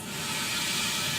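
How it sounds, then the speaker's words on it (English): A Hyper Tough 0.5 gallon inflator compressor at 110 psi blasts a steady, loud hiss of compressed air that continues unbroken throughout. "The compressor will turn on as you'd expect."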